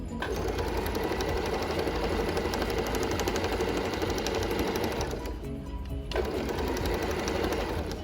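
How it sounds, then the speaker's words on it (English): A sewing machine runs steadily while stitching a seam on a maxi skirt, a loud continuous mechanical whir that drops out briefly near the end before resuming, with no voices. "I'm going to sew all the way to the end, and I am going to back stitch"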